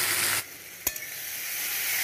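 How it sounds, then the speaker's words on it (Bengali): Tomatoes and spices frying in a pan: a loud sizzle at first drops to a softer, steady hiss, with a single sharp clack of a utensil on the pan partway through. "টমেটো ভাজা হয়ে গেছে"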